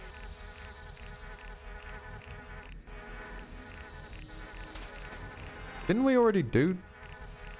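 Insect-like buzzing of bees fills a beehive area in the video game Anachronox, a steady drone throughout with a louder, swooping close pass near the end and a brief spoken remark.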